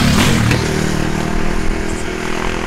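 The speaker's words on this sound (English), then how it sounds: "Here comes the motorbike." A motorbike engine roars close by on a scenic road in the Dales and Lakes and then fades, with a rough rumbling drone and some clatter.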